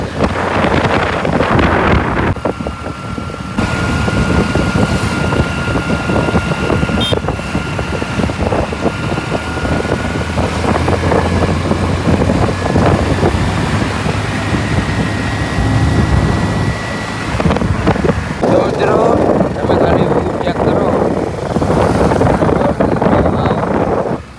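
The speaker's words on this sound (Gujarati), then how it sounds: "ઠંડી હવા અને બાઇક લઈ જઈ" Steady, loud wind buffeting a microphone as a motorbike rides along, with a constant engine drone underneath throughout.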